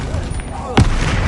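A Flipendo spell cast during Hogwarts Legacy combat: a single sharp, loud impact burst lands near the one-second mark, standing out over a dense, steady bed of game noise and music.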